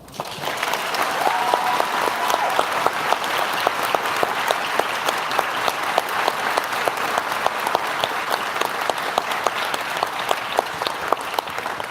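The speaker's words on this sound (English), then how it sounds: "let's go ahead and get another round of applause for the bookstore" Sustained audience applause at a bookstore author event, many hands clapping in a dense, steady roar with sharp individual claps standing out, continuing evenly for the whole stretch.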